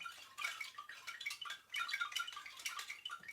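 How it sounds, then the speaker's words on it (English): Soft, quick rattling from a Thai angklung, pieces of wood of different sizes fixed to a wooden frame, shaken in uneven bursts like trickling water, close and alone. "I also have a strange instrument called an anklin."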